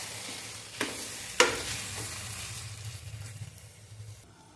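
Chakkara pongali with cardamom and fried dry fruits is stirred in a pot, giving a few scraping spoon strokes and sharp clinks over a soft sizzle, close and fairly quiet.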